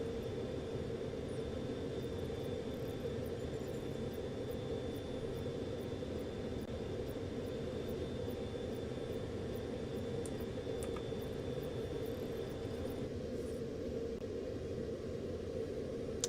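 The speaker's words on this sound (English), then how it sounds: "So this is a U2 spy plane?" Steady broad engine drone of a U2 spy plane in a Black Ops Cold War game trailer, continuous and fairly loud, with faint high ticking on top and a slight drop in the upper tones near the end.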